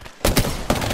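Video game gunfire, apparently hip-fired, breaks out in loud close bursts after a short quiet start, with a second burst of shots near the end.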